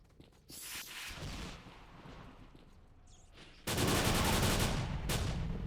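Gunfire aimed at a tough chimera in a video game: bursts of loud rapid shots, a short volley early, a lull with faint rumble, then a sustained heavy barrage near the end.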